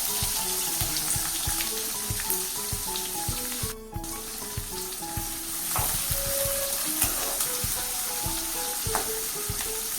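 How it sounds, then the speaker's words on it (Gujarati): Long-sliced onions sautéing in oil with asafoetida, a continuous sizzle under rhythmic stirring clatter and faint tapping, with a short lull near the middle; no voices. "ડુંગળીને આપણે સંતળાવા દઈએ"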